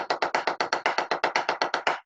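Fifteen loud, even drumstick taps come in a steady quick rhythm over two seconds, all unaccented low notes of equal strength, close and alone.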